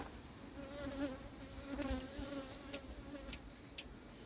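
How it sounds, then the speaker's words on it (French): A single bee buzzes close around a beekeeper at an apiary in Yerres, a steady droning hum that swells and fades as it circles, with faint clicks and no talking. "l'abeille qui me tourne autour"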